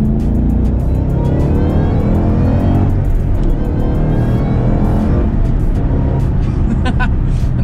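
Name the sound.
supercharged Shelby GT500 Mustang accelerating in second gear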